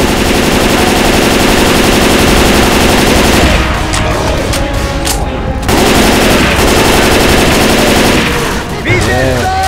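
Gunfire from Left 4 Dead 2 on The Parish bridge in survival mode, a loud, nearly continuous rapid automatic burst with dense overlapping shots that continue for the whole span, close and heavy.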